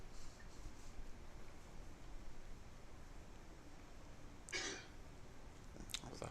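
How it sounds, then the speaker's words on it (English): A single sharp cough rises near the end over a steady low broadcast hiss, brief and fairly loud against the quiet background, followed by a faint second burst. "That was a hell of a cough."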